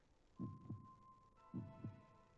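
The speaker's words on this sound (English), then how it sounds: "You can hear his breathing and your own heartbeats." A heartbeat throbs softly, two double-thump beats in slow, even rhythm over a faint steady hum, close and muffled.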